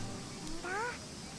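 A cat meows once in a video game, a short, rising-and-falling mew heard clearly over a steady soft background hum.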